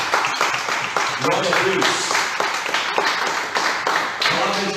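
A congregation at a church service applauds, with steady crowd clapping that runs throughout. A voice speaks over the clapping.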